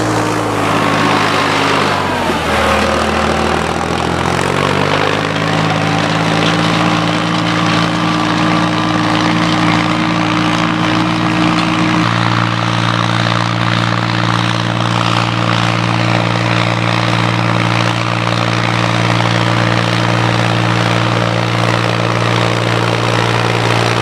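A tractor discing a field for bean planting roars close and loud, a heavy engine drone whose pitch dips and rises early on, then settles into a steady hum with rumbling implement noise beneath.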